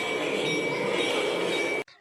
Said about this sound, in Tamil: உண்மையா ட்ரெயின் கத்துற மாதிரியே நல்ல சவுண்ட் இருக்குல்லங்க.